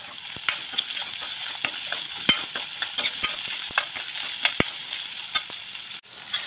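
Onion sizzling in hot oil for puri bhaji, a bright constant crackle punctuated by sharp clicks of a spoon against the pan, then cutting off abruptly near the end; close and unaccompanied by speech.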